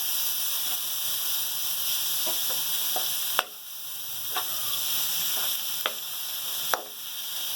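Finely minced qeema paste sizzling steadily in a pan over low heat, a continuous close frying hiss broken by a few sharp clicks and taps of a spoon against the pan.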